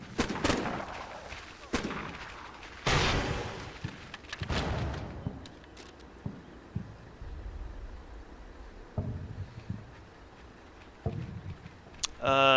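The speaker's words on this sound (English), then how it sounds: "like that RPG gunner that just fired a shot" An RPG gunner fires a shot in a military video game, set amid a burst of loud gunfire and booming blasts early on that thins to scattered pops. Someone talks over the firing.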